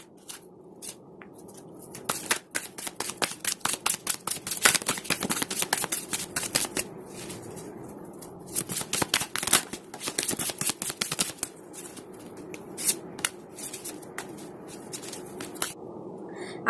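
Tarot cards are shuffled by hand in quick, crisp riffling bursts and soft slaps, repeated steadily in a quiet room with no talking.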